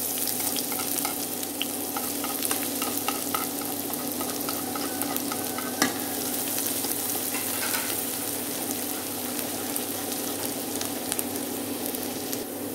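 Onions sizzle steadily as they fry in oil in a pot for a vegetarian braising sauce, with continuous crackling and occasional stirring scrapes, close and fairly loud without any talking.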